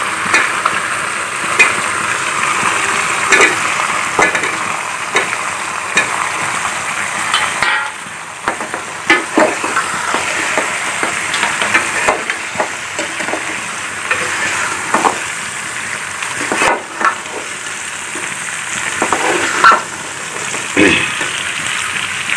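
Eggplant frying with lightly browned onions in oil, a continuous loud sizzle broken by repeated clanks and scrapes of a spoon stirring the pan, with no talk.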